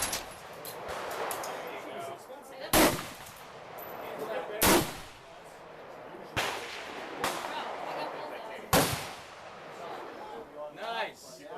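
Sharp, loud gunshots from an HK MR556A1 rifle at a gun range ring out about five times at irregular intervals, with people talking between the shots.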